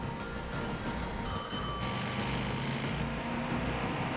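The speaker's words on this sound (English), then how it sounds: "She heard the phone first." A telephone ringing in the video game Destiny 2, a brief electronic ring set over a loud rumbling, train-like background drone.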